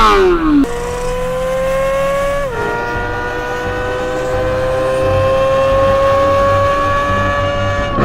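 A new Corvette Z06 V8 engine revs loud and close, pitch sliding between gear changes, then climbs steadily toward 9,000 RPM into a high, sustained wail.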